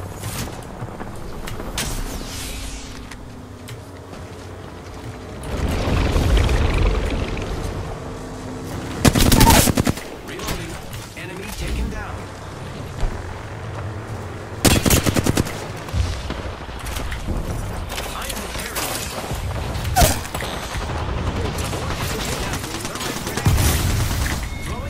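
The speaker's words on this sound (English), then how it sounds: "I am taking fire, friend." Rapid gunfire in Apex Legends striking the player, with repeated bursts and sharp cracks rising and falling over roughly twenty-five seconds, loud and close, mixed with a voice speaking between volleys.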